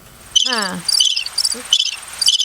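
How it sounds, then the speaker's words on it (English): A cricket-chirp sound effect plays in short repeated bursts, loud and close, with a brief tonal squeak mixed in early on and no talk over it. "Can you use that crickets thing?"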